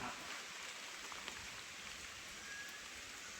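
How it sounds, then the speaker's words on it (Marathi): Steady, dense rainfall hissing evenly throughout on a trek up Gambhirgad fort, with no voices. "हे बघा इथून किती सुंदर पाऊस पडतोय"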